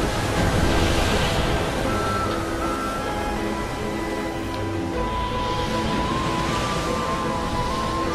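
A colossus in Shadow of the Colossus wading slowly through water, a steady loud sloshing and surging wash like surf, with wind roar and a faint tonal hum, sustained and close, with no talk.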